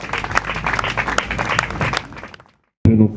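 A church congregation at a funeral service applauds as the pastor comes forward, steady dense clapping that runs about two seconds, fades, stops briefly, then gives way to a voice.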